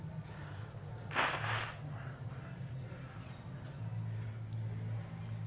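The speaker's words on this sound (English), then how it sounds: "I'm going to blow my nose." One short, forceful nose blow bursts out early, followed by quiet sniffling breaths against a low background hum.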